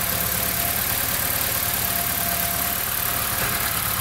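A BMW N42/N46 petrol four-cylinder idles steadily just after a valve stem seal replacement, a loud, close, even mid-pitched engine hum with a fine knocking pulse running alone throughout.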